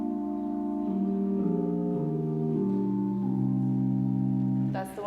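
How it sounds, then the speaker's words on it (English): Sustained pipe organ chords on a single rank that was once a flute stop, its pipes revoiced to a diapason tone; steady, close and full, shifting through several chord changes before a brief noise at the end. "This set of pipes that I'm about to play used to be a flute stop, and then it got revoiced"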